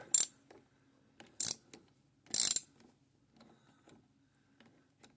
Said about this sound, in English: Hit the camera stand.